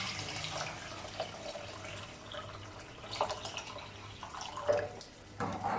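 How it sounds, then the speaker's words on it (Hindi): Water poured from a glass into a pot of masar rice with soaked peas, a soft splashing trickle close by with a few louder bursts, no voices. "अब पानी डालेंगे तकरीबन 3 से 4 गिलास।"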